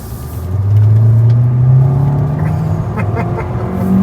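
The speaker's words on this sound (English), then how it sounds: "The engine purrs. It honestly sounds good." Steady engine hum from a 2021 Kia K5 while driving, a low droning tone that rises in pitch as the car accelerates, with road rumble underneath and no talk over it.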